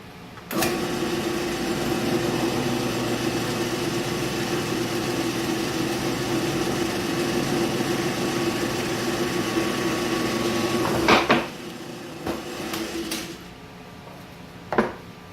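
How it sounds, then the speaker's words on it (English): A power drill whines steadily at close range for about ten seconds as it bores bolt holes through a metal Kubota BX2380 tractor bucket, then stops, followed by a few clanks and knocks. "what we're going to do now is drill the holes out for where the bolts need to go through the bucket"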